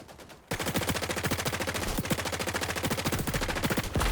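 Rapid automatic P90 fire in the video game XDefiant: a dense, fast rattle of evenly spaced shots starts abruptly and continues loudly without pause, with a brief break midway before the burst resumes.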